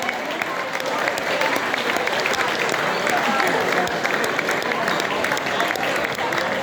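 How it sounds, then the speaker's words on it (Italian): A concert crowd at a tribute band show applauds the sound crew, sustained dense clapping with some cheering voices mixed in, steady and fairly loud from start to finish. "E un grande applauso va a Marco e a Gabriele del service"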